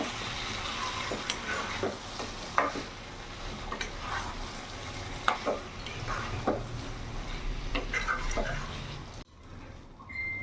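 Fried chicken stirred into hot oil in a pan over a medium gas flame, a soft steady sizzle broken by scraping and clinking of the spoon against the pan, close and fairly quiet, before an abrupt near-silence at the end.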